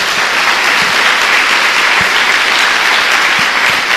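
A church congregation claps in sustained, dense applause, loud and continuous throughout without a break.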